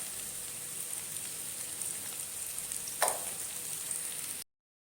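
Tripe sautéing in butter and garlic, a steady soft sizzle like light rain throughout, quiet and close, with one brief clink partway through before it cuts off.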